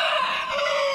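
Roosters on a small poultry farm give a sustained, nasal clucking call that holds steady for about a second, close and fairly loud, with no talking.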